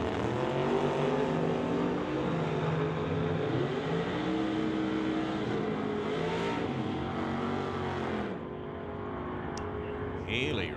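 Two drag race cars, a 1967 Chevy and a 1983 Firebird, at a drag strip during an NHRA Summit ET bracket race, with a loud, sustained engine roar that holds steady and then eases near the end, mixed with commentary.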